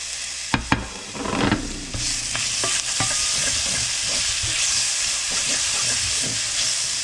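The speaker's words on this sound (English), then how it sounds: "you want to saute your ginger" Ginger and garlic sauté in hot oil with a loud, steady sizzle after a couple of sharp clatters at the start, with occasional stirring knocks from a utensil and no talk.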